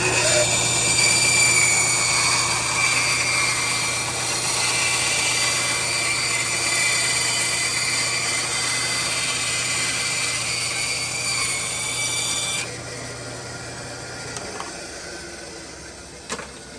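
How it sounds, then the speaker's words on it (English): A bandsaw cuts the top piece off a double magazine carrier for an H&K VP9 pistol. Its steady, loud whine runs for most of the time, then drops off and winds down near the end. "let's take it back to the bandsaw again, and let's cut this top piece off"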